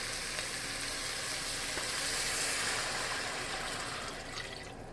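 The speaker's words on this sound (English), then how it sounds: "what I want to do is go ahead and add about 5 cups of water" Steady rushing splash of about five cups of water pouring into a pot for pot roast, continuous and fairly loud, easing off slightly near the end.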